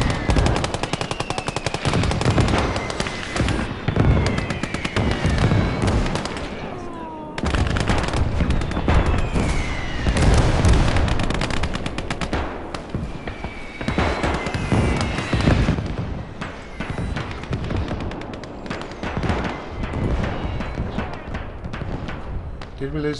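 Heavy artillery barrage in the WWII strategy game Call to Arms: Gates of Hell, Winter War setting: dense, continuous rumbling blasts mixed with rapid machine-gun bursts, loud throughout with a brief lull near seven seconds, a voice talking over it.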